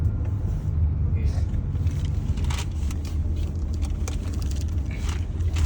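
Porsche Cayenne driving in Sport Plus mode, heard from inside the cabin as a steady low engine and road rumble, with people talking over it throughout.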